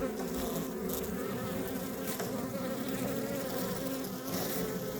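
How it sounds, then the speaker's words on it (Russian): Inside a hive box sealed with stapled netting, honey bees keep up a thick, continuous buzz, loud and close, with no voices over it. "Пчелки там внутри."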